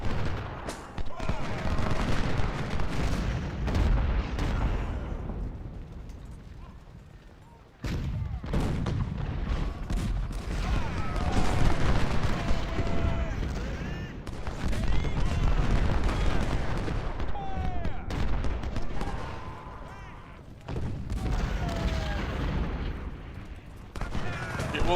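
Infantry musket volleys crackle and boom in the Ultimate General: Civil War game at the First Battle of Winchester, dense bursts of gunfire and distant artillery rolling on in waves, with a voice talking over the din.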